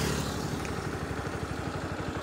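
A 2024 Bajaj Pulsar NS160 motorcycle engine runs steadily and loudly up close, a continuous throbbing exhaust pulse with a rapid even rhythm and mechanical clatter during a top-speed test run.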